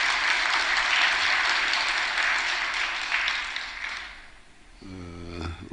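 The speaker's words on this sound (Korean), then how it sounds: "일주일 동안 수고 많이 하셨는데 박수 한번 쳐줘요." Church congregation applauding the praise team in a sanctuary, a dense steady wash of clapping that fades toward the end before a voice begins speaking.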